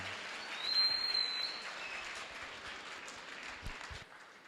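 An audience at a career center event claps in a steady wash of applause that swells briefly, then gradually fades, heard from a moderate distance.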